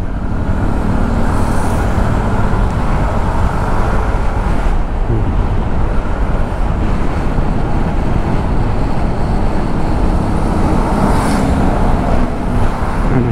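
Loud, continuous road traffic in Batangas, with cars and large trucks rumbling past close by in an unbroken wash of engine and tyre noise, no voices heard.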